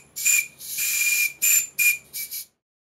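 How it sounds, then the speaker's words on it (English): A misaligned steam whistle on a Stuart model steam plant blows in a series of short, shrill, breathy toots of uneven length, loud and close with a hissy edge, ending in silence. "the jet of air or steam is out of alignment with the bell"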